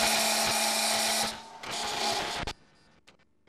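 Wood lathe parting off a turned ring made with a wobble chuck: a loud, steady whirring hum with a scraping cutting tone that drops away as the cut finishes, followed by a couple of sharp knocks near the end.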